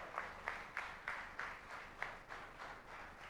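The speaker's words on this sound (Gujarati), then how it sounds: "તો આ કલાકારો માટે એકવાર ખૂબ જોરદાર તાળીઓ વગાડો" An audience at a Sanatan festival event in Nashik gives faint, distant applause, with a few louder claps standing out in a loose rhythm.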